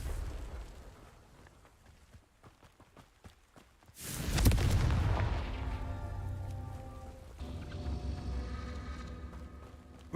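The Confringo fire spell in Hogwarts Legacy detonates after a stretch of pattering footsteps, a sudden loud booming blast that rolls out into a long rumbling, crackling decay with lingering magical tones.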